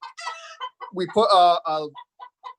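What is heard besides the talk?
chickens clucking in a coop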